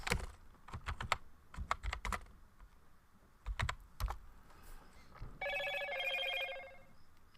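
A phone rings with a short electronic tone near the end, after a run of quiet keyboard typing clicks that fill most of the stretch.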